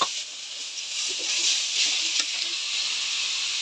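Grated beetroot sizzles in hot oil in a pan, a steady close hiss with a few faint stirring clicks and no talking.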